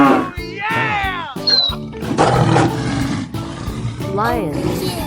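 A lion roars in a 3D animal slide video game, with loud cartoonish growls repeating over game music and other animal sounds, and voices and effects crowding close around it.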